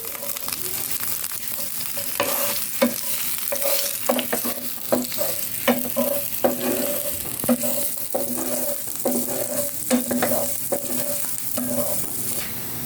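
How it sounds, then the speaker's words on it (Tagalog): Garlic and onion sauté in hot oil with a steady sizzle, broken by repeated scraping and clinking of a utensil stirring the pan in a fairly regular rhythm. "Maggisa na muna po tayo ng bawang at sibuyas."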